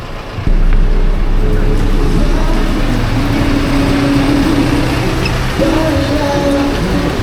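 Interior of a moving bus in Cebu: a steady engine and road rumble starts abruptly and carries on loud and even, with a slight rise in engine tone near the end.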